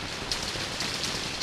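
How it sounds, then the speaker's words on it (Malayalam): Steady rain falls in a continuous, even hiss that stays moderately loud and unbroken throughout, with no voices. "ഈ മഴ കണ്ടോ?"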